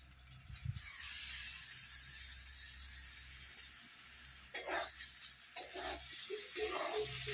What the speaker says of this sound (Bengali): মশলাটা ভালো করে কষে নাড়াচাড়া করে নিলাম